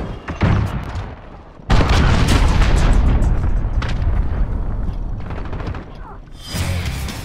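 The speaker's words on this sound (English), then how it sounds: "Allied cruise missile away." Heavy cruise missile strike explosions in Call of Duty Modern Warfare Headquarters multiplayer: a sudden loud booming blast followed by sustained rumbling gunfire and impacts, with a second burst near the end.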